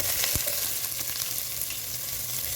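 Chopped onions frying in oil in a pan, a steady, close sizzle with a few soft clinks of stirring near the start and no talking.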